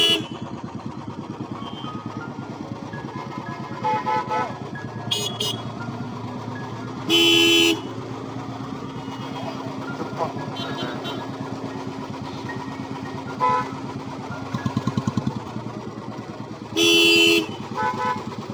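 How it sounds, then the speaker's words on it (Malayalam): Car and motorcycle horns honk in slow traffic on a forest safari road at Mudumalai Tiger Reserve, several short bright toots spaced apart over a steady low engine rumble. "ബാക്കിലുള്ള ചേട്ടന്മാരൊക്കെ പോകാൻ വേണ്ടി ഹോണടിക്കുന്നതാണ്"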